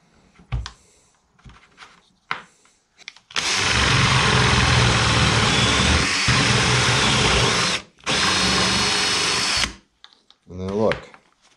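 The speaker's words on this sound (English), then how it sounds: "So I'm gonna go ahead and drill all 4 of those" A power drill bores holes in old fence boards for a cabinet carcass, whining loudly in one long sustained burst and then a second shorter one, with quiet handling clatter before and after.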